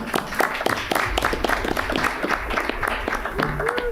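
Applause from a school board meeting audience, a moderate round of scattered clapping at mid distance with some faint voices mixed in.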